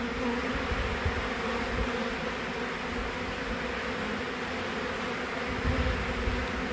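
A dense swarm of honeybees drones steadily during the cut-out of a hive from inside a wall, a thick, continuous buzz that stays fairly faint with no voices over it.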